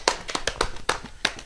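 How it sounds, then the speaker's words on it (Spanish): A few people clap for a theatre company on a TV studio set, with a short, sparse burst of about eight separate, uneven claps that sound close and fairly sharp. "¡Aplauso, aplauso!"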